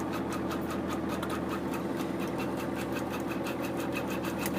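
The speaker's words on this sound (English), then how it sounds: "you can see the wheel moving this way, which is turning the boat in a more northerly direction" An Autohelm 3000 autopilot drives the wheel on a 25-foot sailboat, producing a continuous mechanical hum with a steady rhythmic knock that sits over a constant engine drone.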